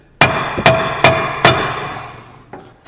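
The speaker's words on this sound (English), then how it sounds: "We now need to tap it with a hammer" Four sharp metallic hammer strikes on a Jaguar XF rear brake disc at a steady rhythm, each ringing briefly, then a fainter fifth tap after a pause.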